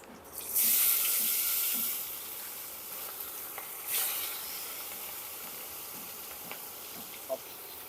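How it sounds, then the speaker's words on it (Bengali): Fish pieces fry in hot oil, opening with a loud burst of sizzling as they go in, then settling into a steady crackle with a second swell midway and a few sharp pops, a voice briefly audible. "এইবার মাছগুলো ভেজে নেবো"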